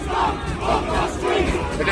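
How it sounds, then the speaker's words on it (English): Crowd of far-right protesters fighting during the Brighton riots near Wall Street, a continuous loud roar of many voices with shouts rising and falling, close and dense throughout. "It looks like there's a whole gang crowd."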